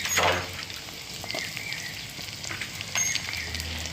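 Peeled garlic dropped into hot oil with softened onions in a pan for sundakkai vathal kuzhambu, giving a steady close sizzle with a brief louder burst at the start and light stirring crackles.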